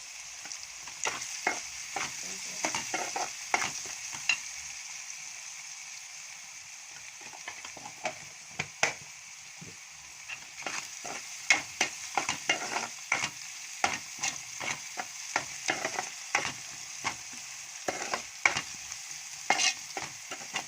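Onions with turmeric frying in a pan, giving a soft, steady sizzle broken by frequent scraping strokes of a spoon stirring them, close by and with no voices.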